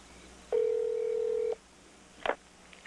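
Telephone tone over a speakerphone, a single steady one-second beep, followed by a brief clatter and quiet line noise.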